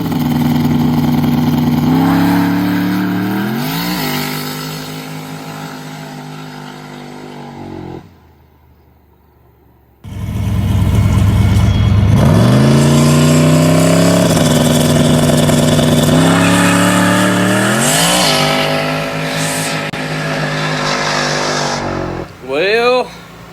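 A drag-race test car with a head gasket fault, running slow, revs loud and close in rising, falling pulls, cuts out for about two seconds, then roars back with repeated climbing revs and a brief blip at the end.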